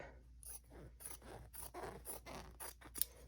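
Scissors snip through folded quilt fabric in a quick run of about eight close, crisp cuts, each a short rasping crunch, in a quiet room with no talking.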